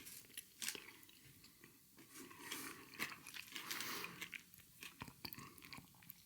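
Close-up chewing of a Double Decker chocolate bar: soft crunchy bites and wet mastication in irregular bursts, very near and quiet, with no talking.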